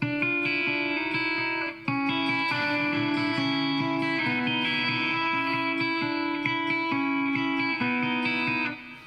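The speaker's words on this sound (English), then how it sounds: "It's a neck pickup sound." A distorted electric guitar on its neck pickup, played through a boosted amp model, plays sustained chords and notes with reverb, a warm, thick tone ringing out in phrases with brief breaks.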